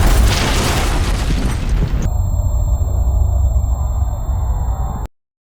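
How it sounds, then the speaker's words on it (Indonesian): A loud explosion at a border area in a film roars as a dense, rumbling blast that sustains for about two seconds before thinning into a steady hum and humming tones, then cutting off abruptly. "para pemberontak yang menentang kebijakan pemerintah meledakkan area perbatasan"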